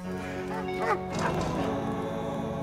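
A dog barks and yips in a short burst over a steady background, with whimpering tones and no clear talk; the sound sits fairly close and moderately loud.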